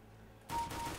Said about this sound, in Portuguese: Qualquer tirinho que eu dou, aparece no radar da galera também.